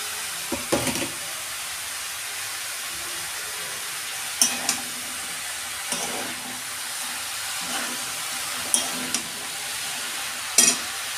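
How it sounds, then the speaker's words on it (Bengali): Drained bottle gourd goes into a pan of cooked-down spices for a prawn curry, giving a steady sizzling hiss broken every couple of seconds by scraping stir strokes, close and without talk. "আমার মশলা কষানো হয়ে গেছে, আমি লাউটা দিয়ে দিচ্ছি।"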